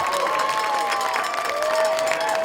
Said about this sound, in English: This crowd is hyped.